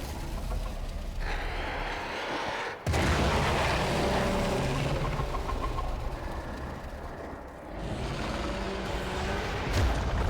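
A loud explosion in the Warframe game rumbles with heavy low boom and debris, staying dense and sustained, with a brief dip near the three-second mark and another drop later before swelling again.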